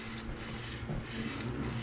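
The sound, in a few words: freehand sharpening PM60 steel knife on 220 grit stone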